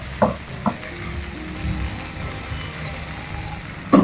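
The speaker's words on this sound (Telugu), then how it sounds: "ఇప్పుడు వీటిని లైట్గా ఫ్రై చేసుకోవాలి ఇక నూనెలా" Green chillies and fresh coriander lightly frying in hot oil in a pan, a steady soft sizzle with a few clinks of a stirring spoon, close and alone.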